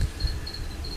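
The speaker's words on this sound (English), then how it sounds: "you can hear the crickets just talking to each other in the background" Crickets chirp from a bin indoors, a steady trilling pulse repeating in short bursts over a low background rumble, close and moderately loud, with no one speaking.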